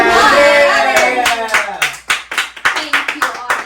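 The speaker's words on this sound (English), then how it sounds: "Thank you, audience applause" Live audience applause with scattered individual claps, loud at first and then breaking into separate uneven hand claps that taper off, with a voice briefly audible over the start.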